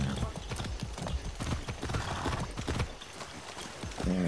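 Rapid clip-clopping of horse hooves in Far Cry 6 trots along steadily, close and crisp, with a short voice near the end.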